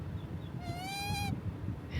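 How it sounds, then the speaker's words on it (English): A single bird call rings out at Lake Apopka, a clear rising whistle-like note lasting about half a second, mid-distance, over low background rumble. "Listen to these birds communicating back and forth."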